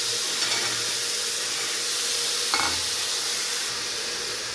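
Beans, carrots and raw peas sizzle steadily in a hot pan for pilaf, a continuous close frying hiss with a brief stirring scrape midway, no talk.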